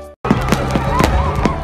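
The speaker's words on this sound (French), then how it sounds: "Sous la houlette du président Serigne Mboup, la population kaolackoise a démarré 2024 en beauté sous les feux d'artifice." Fireworks bursting over a New Year celebration crowd in Kaolack, Senegal, a quick run of sharp pops and crackles that opens after a brief silence and continues over a dense, loud street din.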